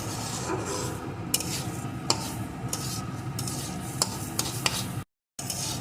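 Rice grains dry-roasting in a pan without sand to make puffed rice (muri), giving a steady scraping stir with scattered sharp crackling pops and ticks throughout, close and fairly quiet.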